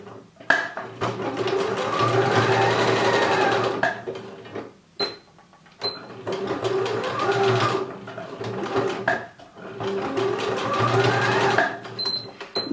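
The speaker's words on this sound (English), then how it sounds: "Let's go to the straight stitch machine and secure the elastic to the main fabric." A straight stitch sewing machine runs in steady rapid bursts while stitching elastic to bikini strap fabric, with brief pauses between runs of close, mechanical whirring.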